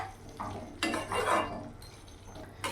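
Mushroom gravy is stirred in a pan, with a spoon scraping and knocking against the metal in several uneven strokes over a faint low simmer.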